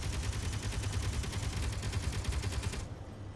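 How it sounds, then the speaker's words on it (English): Gatling turrets in the video game Space Engineers fire rapid, continuous automatic bursts that rattle nonstop at a steady fast rhythm, loud and dense, then cut off abruptly near the end. "Here is your Gatling turrets."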